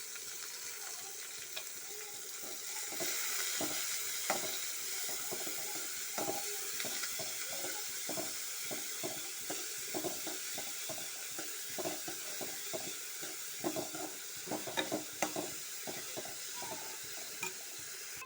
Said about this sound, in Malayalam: ഇതിലേക്ക് നമ്മൾ സവാള പച്ചമുളക് തക്കാളി ഇട്ട് കൊടുത്തിട്ടുണ്ട് ഇതെല്ലാം കൂടെ ഒന്ന് വഴറ്റിയെടുക്കാം